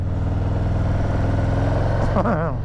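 A 2023 Harley-Davidson Heritage Classic's engine in first gear: a steady, loud low throb that swells into revving near the end, with a voice talking over it.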